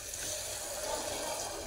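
Water poured from a glass into a pressure cooker pan while cooking dry black-eyed pea curry, a steady gentle splashing rush lasting under two seconds, fairly soft.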